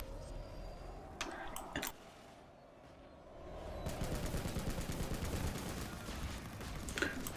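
Gunfire from NC Reaver aircraft in PlanetSide 2 rattles in short bursts early on, then a denser, steadier stream of rapid shots builds in the second half, moderately loud amid game noise.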